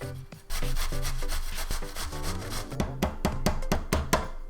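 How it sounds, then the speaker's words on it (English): Onions and garlic are grated by hand on a kitchen grater, producing close, loud rasping strokes in a quick, uneven rhythm with no talking. "then we're gonna grate our onions and garlic"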